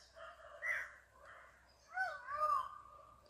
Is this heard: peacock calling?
yes